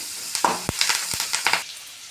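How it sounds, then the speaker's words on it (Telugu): Chowdakaya vegetable tempering frying in a pan with turmeric, a few short sizzling crackles and stirring scrapes, close and moderately loud with two sharp clacks of a utensil against the pan. "ఇప్పుడు ఇవన్నీ కలుపుకున్నాము దీన్ని వేగనిద్దాము ఒక నిమిషం"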